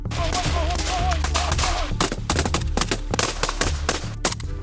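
Rapid bursts of gunfire crackle in quick succession during Ukrainian military shooting training, loud and close, with repeated sharp shots forming an uneven rhythm over a low rumble.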